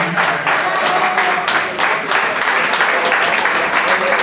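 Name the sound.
audience applause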